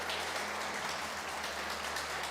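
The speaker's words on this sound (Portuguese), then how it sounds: "Se você crê nisso, aplauda o Senhor" A church congregation claps together, a steady wash of applause that fills the room evenly for a couple of seconds, with no talking.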